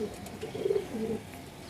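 A home-bred flying pigeon of the perwazi kind coos softly nearby in a short burst of low, rounded calls.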